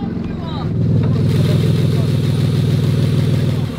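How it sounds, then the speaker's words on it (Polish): A BMW engine, started after a year unused, idles with a steady, even hum that swells slightly as it settles, loud and close with no clear talk. "No jak ładnie ten silnik pracuje."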